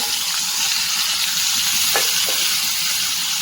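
Tomatoes hit hot oil with sizzling garlic pieces and curry leaves, giving a loud, steady frying hiss throughout, with a few brief stirring scrapes and no talking.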